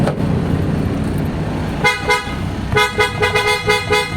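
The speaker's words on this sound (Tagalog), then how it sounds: "So meron tayo dito tatlong klaseng horn" PIAA horns mounted on a stock bracket of a Toyota Hilux, wired with their own harness and relay, blare close and loud in several short honks after a brief low engine rumble.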